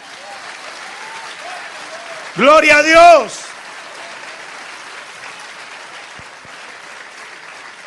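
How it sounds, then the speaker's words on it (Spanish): A church congregation applauds in a steady, even patter that runs throughout, while a voice briefly shouts loudly over it. "dale un aplauso a Cristo"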